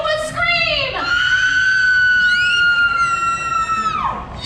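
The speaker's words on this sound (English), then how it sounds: "Let's all hear how you would scream!" A volunteer at a special effects show at Universal Studios Hollywood lets out a long, loud horror-movie scream, rising then holding steady before trailing off, with crowd noise faint underneath.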